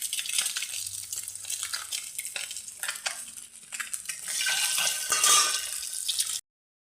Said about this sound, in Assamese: ইয়াত মই ডিমকেইটা দি দিম ভালকৈ ফ্ৰাই কৰি লওঁ